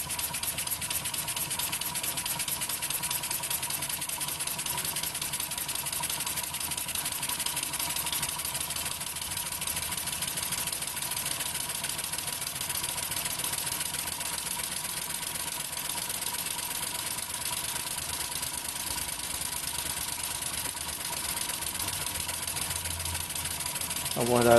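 Hobby model steam engine built on a lathe, running unbolted on plywood, giving a steady fast chuffing hum under continuous close talking, rising slightly at the end.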